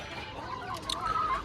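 Desi chickens cluck softly in a farm coop, with a few short, higher calls near the end over quiet background noise.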